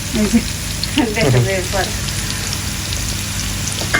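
Onion and garlic sizzle steadily in hot oil for a home-cooked greens dish, a close continuous frying crackle with brief speech-like sounds near the start.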